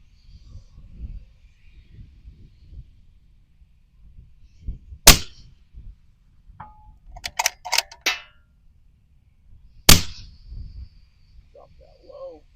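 Two sharp, loud rifle shots roughly five seconds apart, fired through a Billet Precision Rifles Game Tamer suppressor, each one a crack with a short ringing tail, and softer rustling and clicks fill the gap between them.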